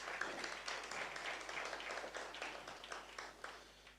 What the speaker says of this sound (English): Yeah, a round of applause would be good as they go.